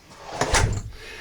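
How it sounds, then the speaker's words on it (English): A storm/screen door on the back entrance of a 2013 Forest River Quailridge 39FKML park model trailer swings and knocks shut, a single soft thud with a brief rattle, fairly quiet and close with no talking. "screen door"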